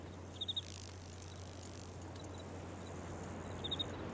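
Faint insect chirps sound in the Riven video game, short clustered trills near the start and again near the end over a quiet, steady ambient hum.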